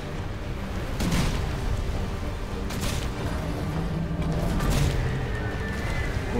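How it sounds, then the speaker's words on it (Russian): Ship cannon fire in the video game Risen 3: Titan Lords: a few dull booming shots break through a continuous roaring battle rumble at a roughly even pace. "Сейчас справа будет выстрел,"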